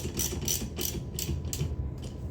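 A ratchet tightens the wiper arm nut on a Toyota RAV4, giving about six quick, crisp clicking bursts in a steady rhythm, close and fairly quiet.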